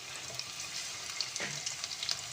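Onions fry with a soft, steady sizzle in a pan, stirred now and then with a wooden spoon that adds light scraping and tapping, close but fairly quiet, with no talk.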